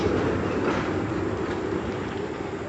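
A zoo tram rumbles steadily past on its tracks at Zoo Negara, Kuala Lumpur, Malaysia, a continuous low roar with faint rattling, fairly close.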